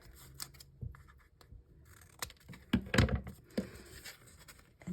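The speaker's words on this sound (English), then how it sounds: "So I'm going to trim that there." Scissors snip a paper craft tag, several crisp cuts spaced irregularly with a louder cluster in the middle, close and quiet with faint rustling of paper between strokes.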